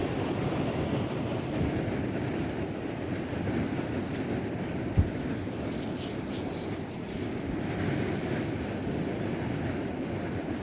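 Steady wind blowing along the Westerschelde shore with surf-like rushing, continuous and fairly loud throughout, with a single brief thump near the middle; no voices.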